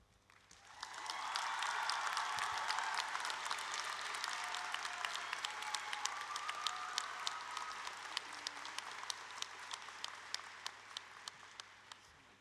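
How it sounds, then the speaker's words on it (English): A graduation crowd at the 2025 Drexel University College of Arts and Sciences commencement breaks into sustained applause. It swells after the first second into a dense, even wash of many hands that carries to the end, with a few sharp individual claps standing out. "Another round of applause."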